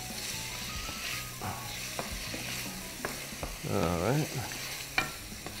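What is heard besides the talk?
tomatoes frying and being stirred in a pan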